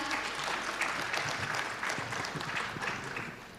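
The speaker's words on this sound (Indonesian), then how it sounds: "Tepuk tangan yang meriah untuk Mas Fikra." A conference audience in Indonesia gives sustained applause for a speaker coming to the stage. The clapping is dense and continuous, fairly loud, and fades a little toward the end.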